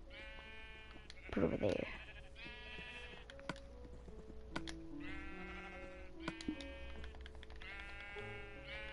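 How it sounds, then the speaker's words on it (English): Sheep bleating in a Minecraft sheep farm, several clear repeated bleats close by, with a brief voice and light keyboard clicks in between. "I need to breed my sheep over there."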